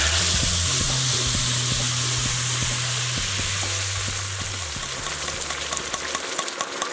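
Loud, steady sizzling of blended salsa hitting hot oil, a broad hiss close up that gradually eases, with a low hum underneath.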